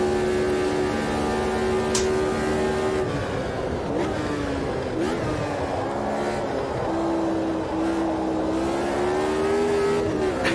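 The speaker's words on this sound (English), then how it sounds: "It's very, very pleasant to drive this McLaren actually." A McLaren race car engine in Automobilista 2 at Silverstone, holding a loud steady drone with pitch rising and dipping through gear changes and throttle shifts, continuous and close throughout.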